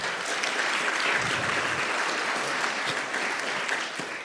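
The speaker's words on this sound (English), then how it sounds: "We'll tell him we clapped for him" A room of guests at a College of Elders dinner claps for Tom Farmer: dense, even applause that stays strong for about four seconds and then tapers slightly.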